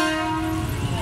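A loud, close rumble of an electric commuter train going by beside Tambun station, with a steady tonal whine over heavy low-end noise.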